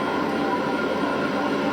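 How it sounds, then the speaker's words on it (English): A Shinkansen bullet train pulls out of Tokyo Station, producing a steady, loud rushing rumble that holds evenly throughout with no talking. "A bullet train left the station with all cars almost empty."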